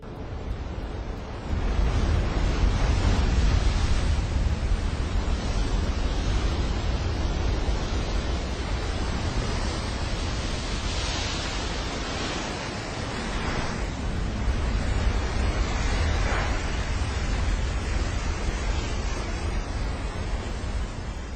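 A huge ocean wave crashes and roars as a surfer rides it, a loud, continuous broadband wash of surf and wind rumble that swells and recedes over about twenty seconds, with no voices.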